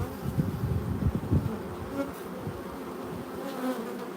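Honeybees buzz steadily around an open hive during an inspection for brood and chalkbrood, a dense close swarm hum with a few louder passes near the start, no talk.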